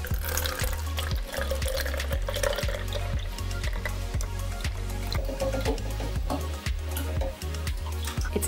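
Thick, wet canned strawberries pour steadily out of a can into a blender, with a continuous sloshing, gurgling stream close by.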